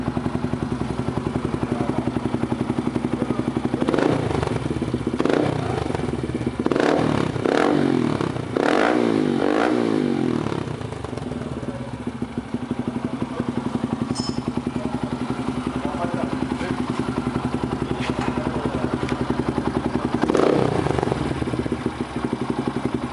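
A Bajaj 135 LS motorcycle engine revs repeatedly with a test exhaust fitted, a burst of rough, clattering revs near the middle over a steady idle drone, with faint voices in the background.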